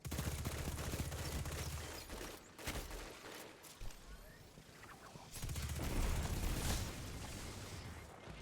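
Rapid SMG fire from a video game rattles in dense, loud bursts, breaks off briefly for a few seconds, then returns as sustained automatic gunfire.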